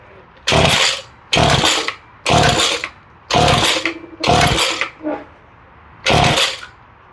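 A Ryobi string trimmer engine set to run with the choke off, firing in six short loud revving bursts separated by gaps, close by and without voices.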